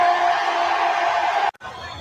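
Crowd in a stadium cheering and roaring steadily for about a second and a half before it cuts off abruptly, followed by quieter background noise.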